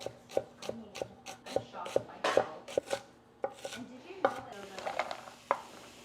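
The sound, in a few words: knife slicing vegetables on cutting board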